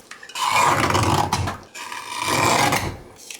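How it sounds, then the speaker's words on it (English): A paper guillotine trims a scrapbooking sheet for a junk journal, giving two long rasping, scraping cutting strokes close by, the second starting after a brief pause, with no talk. "I am going to bring in my guillotine and trim this"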